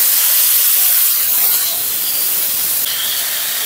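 Bottle gourd strips drop into hot mustard oil already tempered with cumin and dried red chillies, giving a loud, steady sizzling hiss that fills the whole stretch up close.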